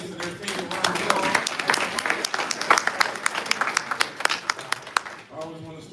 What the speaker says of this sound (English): let's give Royal Estates and their team a round of applause